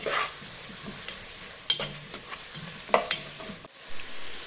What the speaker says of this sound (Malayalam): ഈ സവാള ഇതിലേക്ക് ഇട്ടിട്ട് വഴറ്റി കൊടുക്കാം